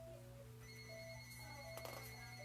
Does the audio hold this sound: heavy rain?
no